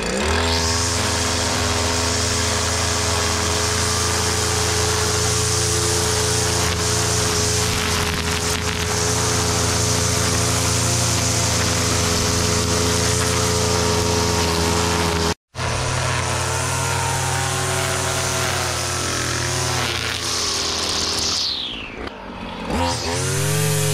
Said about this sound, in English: we bevel the string trimmer to clean up the lines